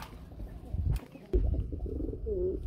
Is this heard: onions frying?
no